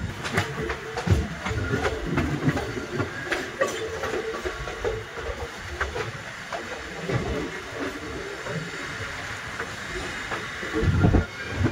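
A train arrives at Hubli station about ten minutes late on a track running close past a mosque, with a steady moderate rumble of rolling wheels, faint hiss and a sharper clank near the end, with no voices.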